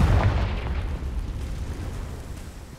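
A deep, rumbling explosion from the Confringo blasting spell in Hogwarts Legacy, booming loudly at the start and then rolling away into a long, fading low-end roar.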